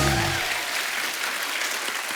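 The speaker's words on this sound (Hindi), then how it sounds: "तालियां बजती रहनी चाहिए आपकी।" A studio audience at a Hindi television comedy show applauds loudly and steadily as a guest is welcomed, with a brief tonal music sting at the start before the clapping continues alone.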